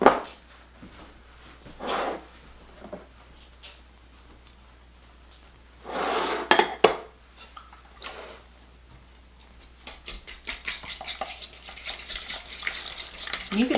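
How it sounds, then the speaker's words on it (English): Eggs and pumpkin being mixed by hand in a bowl, a utensil scraping and clicking against the sides in irregular bursts, then a faster run of light rhythmic taps toward the end. "I'm going to mix it together."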